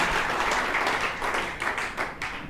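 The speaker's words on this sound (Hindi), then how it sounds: "एक बार उनके सम्मान में तालियां आपकी होनी चाहिए।" Audience at a Hindi kavi sammelan poetry recital applauding a poet, a dense, steady wash of many hands clapping that carries on for a couple of seconds and thins slightly toward the end.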